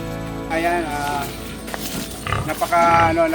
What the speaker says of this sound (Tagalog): Ang daming baboy.